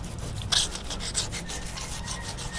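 Sandpaper scraping over puttied wood in uneven back-and-forth strokes, close by, fairly soft and continuous.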